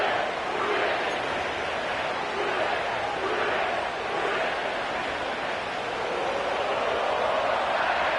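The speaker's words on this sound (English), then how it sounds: "sellout crowd has arrived at Paycor Stadium in Cincinnati" Steady wash of a sellout stadium crowd at Paycor Stadium in Cincinnati in a Madden NFL game, a constant roar with slight swells.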